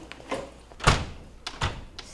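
A school door being opened with difficulty, giving several knocks and thunks with one heavier clunk near the middle, fairly close and moderately loud with no talk.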